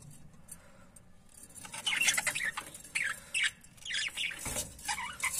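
Pet budgerigars, including a spangle male, chirp in an indoor colony aviary with clay breeding pots: rapid, bright twittering and squawky calls burst in overlapping clusters after a quiet opening, fairly close and lively.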